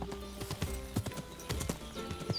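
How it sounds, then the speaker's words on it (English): Horse hooves clop in a quick irregular galloping rhythm during a race in the medieval video game Kingdom Come: Deliverance II, sounding close and fairly loud over a low background hum. "The horse riding has changed in this"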